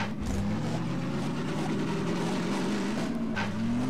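A car engine in the video game Half-Life 2: Episode Two hums and revs continuously with a rising drone as the throttle is held. It is loud and alone, with a couple of brief higher bursts.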